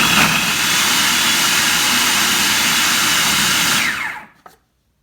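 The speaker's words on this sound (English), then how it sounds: "I'm using the shredding attachment, so I will put it in here and lock, and it will start shredding." A food processor with a shredding attachment grates ginger in a loud, steady whirring roar that holds for about four seconds and then spins down and stops.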